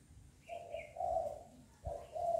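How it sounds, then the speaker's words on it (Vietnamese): A pet sunbird gives a few clear, close tonal calls in short phrases, with soft quiet pauses between them in a calm room. "Đây con chim hút mật của mình hả"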